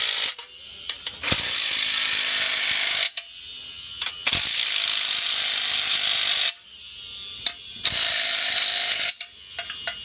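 Ratchet with a 14mm socket tightening bolts on a heat pump wall-mount bracket, several quick ratcheting bursts up close, separated by short pauses.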